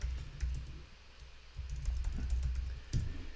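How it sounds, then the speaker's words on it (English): Typing on a computer keyboard gives bursts of quick, close key clicks with brief pauses between runs, alone with no speech. "So I'm going to go ahead and type it in here."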